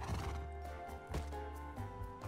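A horse in a video game whinnies loudly and repeatedly, with the shrill neighs close and prominent and some hoof clops mixed in.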